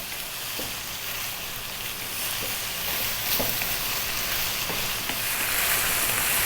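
Ground beef and potatoes fry in a pan over above-medium heat, giving a steady, moderately loud sizzle with a few faint clicks of stirring and no talking.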